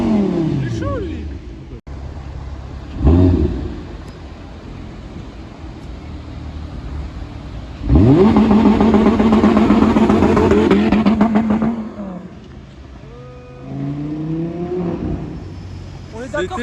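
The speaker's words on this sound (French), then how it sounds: "R8 V10 un peu modifié. Il a raté son départ" A slightly modified Audi R8 V10 revving on a city street during a failed launch, loud rising engine roars in bursts with a long sustained high rev in the middle, nearby, with people talking over and between.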